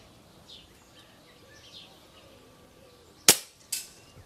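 An Air Arms TX200 air rifle with a 22 mm piston fires one sharp, close crack and then a second, slightly softer shot, against quiet outdoor background with faint birdsong.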